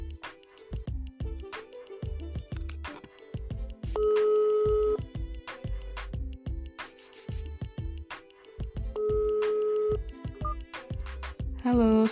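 An outgoing phone call rings out, with long ringback tones repeating about every five seconds over a busier pattern of electronic beeps and tones, fairly quiet and with no talking.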